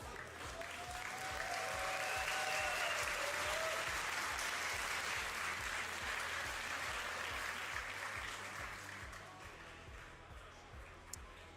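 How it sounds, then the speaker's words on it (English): Sustained applause from a crowd at a Yu-Gi-Oh! European World Championship Qualifier tournament in Berlin, a steady dense roar of clapping holding throughout and fading slightly toward the end. "Can we get a round of applause from the crowd?"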